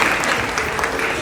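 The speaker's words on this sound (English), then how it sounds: "give her a round of applause" Keynote audience at a childcare conference breaks into dense, steady applause, a full room of hands clapping close and loud for the whole stretch.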